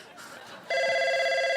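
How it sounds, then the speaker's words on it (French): A telephone bell starts ringing partway through, a loud, steady electronic trill with bright sustained tones that runs to the end, preceded by a faint murmur of room noise. "Le téléphone sonne."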